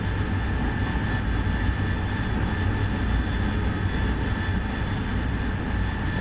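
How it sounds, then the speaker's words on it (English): A military jet's engine roars steadily in a flight simulator combat mission, a constant dense whine and rumble at moderate loudness with no talk over it. "Bring our throttle back just so we don't damage the engine."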